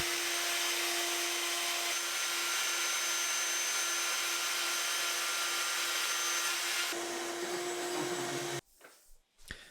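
A shop vacuum roars steadily with a high whine while a router cuts a rabbet in wood, loud and close for about nine seconds before cutting off abruptly, leaving faint handling knocks.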